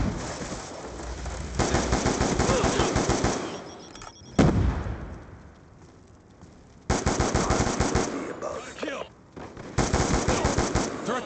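Rapid machine gun fire from the Black Ops II video game comes in three long, loud, dense bursts separated by quieter gaps.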